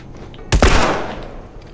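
A burst of gunfire from a weak handgun in The Last of Us, loud and close, with sharp shots packed together in about a second and a short fading tail.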